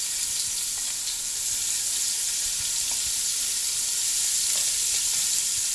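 Shrimp sauté in a pot for a seafood stew, a steady close sizzle of frying with occasional stirring and clinks, continuous and even throughout with no talking.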